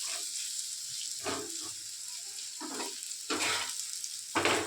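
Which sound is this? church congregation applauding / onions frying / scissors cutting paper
onions frying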